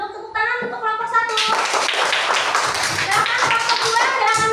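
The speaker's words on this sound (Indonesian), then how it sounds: "tepuk tangan untuk kelompok 1" A classroom of students claps for group 1 after its presentation, dense and energetic applause starting after a brief spoken moment and continuing steadily to the end.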